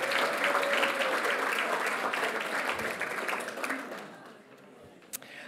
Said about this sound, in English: Please give Uncle Frank another round of applause.